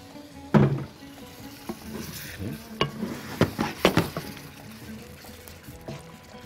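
Butter and sugar caramelize with carrots in a pan, giving a low sizzle broken by clattering stirs and a few sharp knocks of a utensil against the pan, close and moderately loud.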